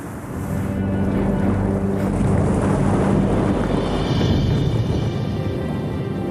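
Waves pounding the coastline of Lake Tanganyika, a loud unbroken wash of churning water rising after a quiet start, with wind buffeting the microphone and no voices.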